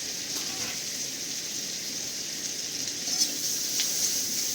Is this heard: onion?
yes